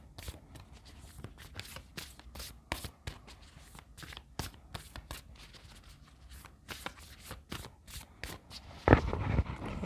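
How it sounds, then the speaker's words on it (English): Tarot cards are drawn and shuffled close by in a quiet room. Crisp, irregular flicks and slaps of card stock continue throughout, with a louder rustling handful near the end. "let's draw some more cards here for you"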